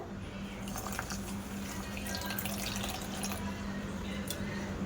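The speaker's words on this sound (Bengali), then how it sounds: "আমি ওর মধ্যে উষ্ণ গরম জল দিয়ে দেব।" Warm water being poured into a bowl of yeast, sugar and milk powder for soft bread dough, a continuous trickling, splashing stream throughout, close and steady with a low hum beneath.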